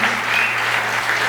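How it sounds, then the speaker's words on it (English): A live audience at a theater concert claps in a short, dense burst of applause for the staff, steady and fairly loud from start to finish with no voices on top. "a round of applause for your staff tonight"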